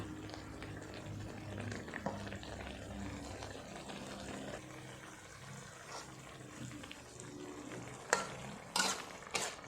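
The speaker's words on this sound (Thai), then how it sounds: "เราก็ผัดไปอีกสักพักหนึ่งนะคะ ให้น้ำแห้งอีกนิดนึง" Pork belly stir-fried in a pan for a spicy curry, a steady sizzle with scraping stirs and a few sharp clatters of the utensil near the end, no voices.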